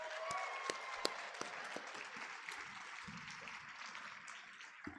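An audience at a high school prom assembly applauds, a steady wash of many hands clapping in a large room, with a few sharper individual claps standing out and faint crowd murmur beneath.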